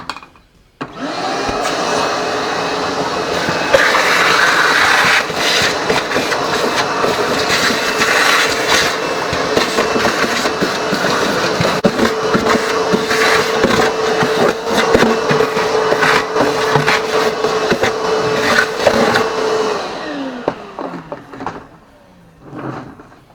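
A vacuum cleaner runs continuously while cleaning the work area around a car's corroded floor pan, a loud steady whir with bumps and scraping as the nozzle moves, then switches off near the end.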